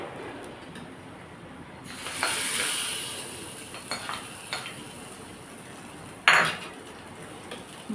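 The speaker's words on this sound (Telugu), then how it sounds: "ఆఫ్ చేసేసి ఈ పోపుని ఇందులో పోపు వేసేసుకుందాం" Hot tempering poured into tamarind leaf dal, a close sizzling hiss that rises sharply, then fades, with light clinks of a pan and spoon and no talking.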